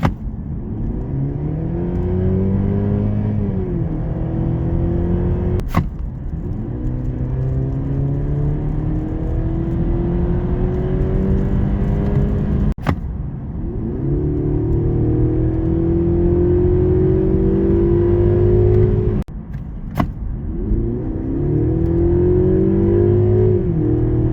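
Mercedes CLE 300 4MATIC Cabriolet with a 9-speed automatic accelerating hard, engine note rising steadily and dropping back at slow, audible gear changes, three or four upshifts in sequence, loud and continuous with no talking.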